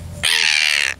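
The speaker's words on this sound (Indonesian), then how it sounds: "Nah itu burung apa ya?" A large bird, likely a crow, gives one loud, harsh caw lasting most of a second, close by over quiet outdoor background at night near mangrove crab hunting.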